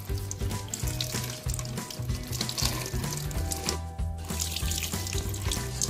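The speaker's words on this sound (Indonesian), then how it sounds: "Kita bersihkan semuanya dari atas sampai bawah dengan air mengalir" Tap water runs steadily into a kitchen sink while large prawns are rinsed under it. A continuous splashing hiss carries on alone with a low hum underneath.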